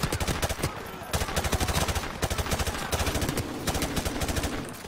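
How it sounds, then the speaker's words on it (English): Rapid automatic gunfire from a Call of Duty: Modern Warfare Remastered campaign firefight, a dense run of close, loud shots firing through a wall, nearly continuous with brief breaks. "Just gotta shoot through that wall"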